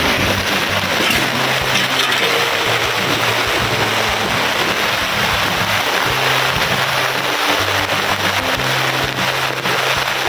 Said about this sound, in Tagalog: Yan, inabot tayo ng ulan.